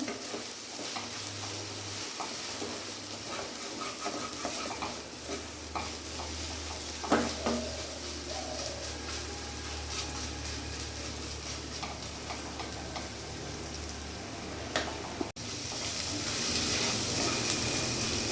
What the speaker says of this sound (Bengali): কচুরলতি কিন্তু একেবারে সেদ্ধ হয়ে গেছে, কিন্তু আমার ভাজা ভাজা করতে হবে, আরও ভাজবো আমি।